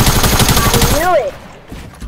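Rapid bursts of gunfire in a Fortnite Creative 1v1 match, a dense rattling volley for about a second followed by a sliding whistle-like tone and quieter game noise.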